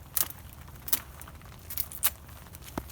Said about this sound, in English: start by just removing the old spurs from the canopy. We'll just cut it out